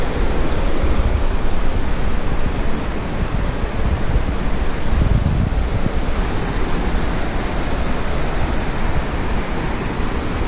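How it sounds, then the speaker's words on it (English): Red Creek at Dolly Sods rushes steadily nearby, a loud, unbroken wash of flowing water with no voices. "So this must be Red Creek right here."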